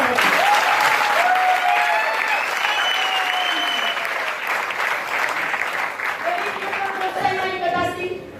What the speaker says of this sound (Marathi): या सर्वांसाठी एका जोरदार टाळ्या